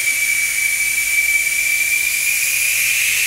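Air hisses steadily out of a tire valve stem with its valve core removed, a loud, continuous rushing hiss with a thin whistle riding on top, unbroken from start to finish.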